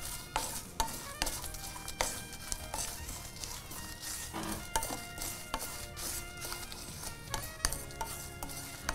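Cashews, cloves and spices dry-roast in a pan without oil, with repeated close scraping and clicking of a spatula stirring and tossing them in a steady rhythm under a faint background hiss.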